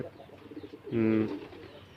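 A red pigeon gives a single short, close coo, rising out of quiet background noise and fading again within a fraction of a second.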